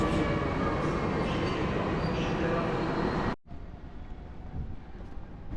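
ED74 electric trains rumble loudly and steadily at Wrocław Główny station, with a sudden cut to a quieter, distant hum of the platform.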